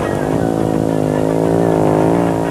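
A KTM rally-raid motorcycle at the 2006 Dakar prologue gives a loud, close, steady engine drone with a constant pitch and no breaks.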